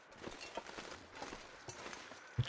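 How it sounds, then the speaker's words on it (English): A deer moves in The Long Dark, soft irregular footfalls crunching faintly at a distance against a steady windy outdoor ambience. "No, but it does sound like a deer."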